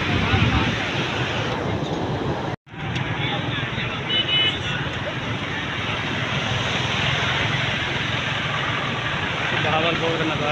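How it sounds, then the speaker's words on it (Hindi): Canal water rushes through an underground siphon, a continuous loud roar of turbulent flow that fills the whole clip, broken only by a momentary dropout. "नहर का पानी जेरे जमीन जाता है"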